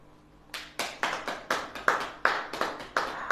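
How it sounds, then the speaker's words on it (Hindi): A church congregation claps in a steady rhythm, about ten sharp, loud, evenly spaced claps after a short quiet start. "अब ताली बजाएं।"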